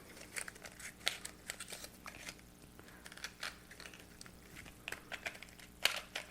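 A cardboard box being ripped open by hand during an unboxing, with scattered crinkling, tearing and crushing bursts at irregular intervals, close and moderately loud.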